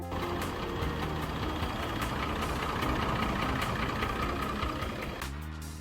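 A 5-ton truck's heavy engine idles steadily and loudly, with a rough, rattling metallic knock running through it from an engine fault; the sound drops off near the end.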